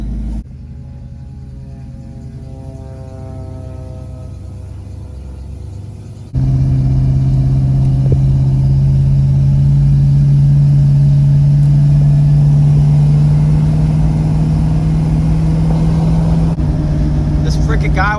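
Old OBS work truck towed along a regular road, with a steady engine and road rumble that jumps louder partway through and holds a continuous drone to the end.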